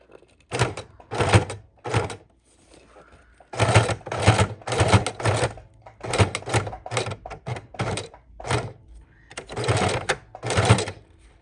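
A sewing machine on its widest stitch length runs up the spine of a miniature junk journal in a series of short, loud, rhythmic bursts of chattering stitches, close by, with brief pauses between runs.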